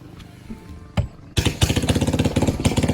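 A boat engine idles before departure, starting with scattered knocks and then settling into a loud, rapid chugging rhythm close by, with no speech over it.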